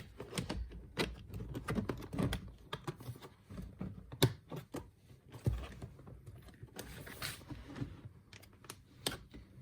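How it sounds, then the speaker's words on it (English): An Audi A3 8P Cabriolet A-pillar plastic trim panel is pressed and clipped back into place. It gives a series of close, scattered clicks, taps and knocks of hard plastic with no voices. "clip this trim panel back into position"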